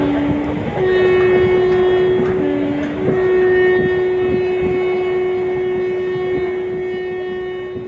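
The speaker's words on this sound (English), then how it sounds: "It was described as making screeches like a locomotive whistle." A locomotive whistle gives a loud, sustained, steady-pitched screech, cut by brief breaks near the start and then held for several seconds before slowly fading.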